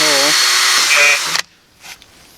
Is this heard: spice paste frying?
no